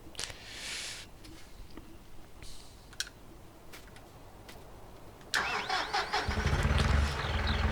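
A tractor engine in the farming game Farming Simulator 2019 cranks and catches near the end, settling into a loud, steady idle after a few soft clicks and taps.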